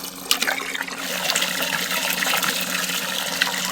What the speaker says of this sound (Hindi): मोटर चालू हो चुकी है, पानी भर देते हैं।